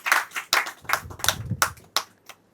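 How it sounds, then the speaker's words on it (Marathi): An audience at a women's awards ceremony claps in uneven, scattered bursts. The sharp hand claps come close together over a couple of seconds and fade at the end. "आमसाठी एकदा जोरदार टाळ्या जाऊ द्या"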